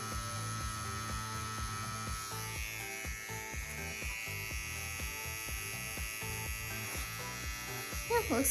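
A CNC WE wireless tattoo machine buzzes steadily while tattooing silicone practice skin, a close, even electric hum running through the whole stretch with faint sounds of handling.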